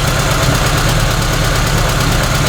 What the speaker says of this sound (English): Return to idle is quick, but it doesn't return to the same idle it was at.